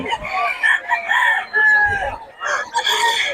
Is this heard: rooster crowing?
yes